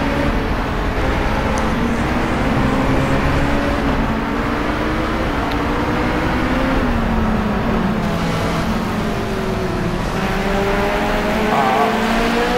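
A BMW Z4 laps the Nürburgring circuit, its engine droning loudly and steadily with rising and falling pitch as it accelerates and shifts, continuous road and wind noise underneath, no voices.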